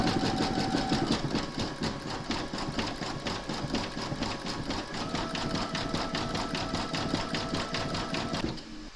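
An embroidery machine stitches a mermaid's hair in metallic thread on an appliqué, a fast, steady mechanical rattle of needle strokes running close and uninterrupted until it stops near the end.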